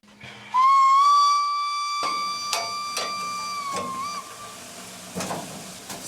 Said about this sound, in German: Die Dampflokomotive von 1900 fährt immer noch.